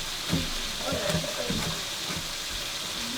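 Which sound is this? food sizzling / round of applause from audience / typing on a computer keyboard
food sizzling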